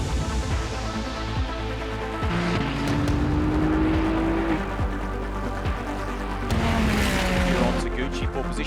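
Ferrari Challenge race cars roaring around an Australasian championship circuit, a steady loud engine drone with gear-change pitch sweeps as cars pass, continuous throughout with no clear talk.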